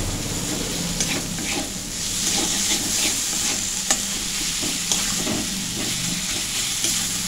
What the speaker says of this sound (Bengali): এভাবে আমি নেড়ে নিচ্ছি।